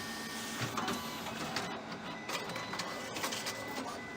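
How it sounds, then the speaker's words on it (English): A Konica Minolta BizHub copy machine runs through a print job, giving a steady mechanical whir with rhythmic clicks and paper-feed rattles, moderately close and without talk. "the copy machine will start, and the copies will come out here on the left side"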